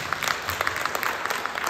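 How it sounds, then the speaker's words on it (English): An audience applauds the host of a community event, a steady patter of many hands clapping at moderate volume for under two seconds. "Big round of applause for Elizabeth."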